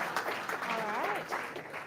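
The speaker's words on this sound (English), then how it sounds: "So please give it applause." Crowd applause at a tech demo day in Berlin, a moderate wash of clapping with a voice talking over it.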